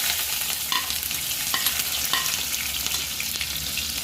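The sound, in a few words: onions frying in hot oil in a pan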